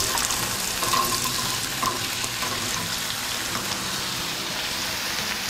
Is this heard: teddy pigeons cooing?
no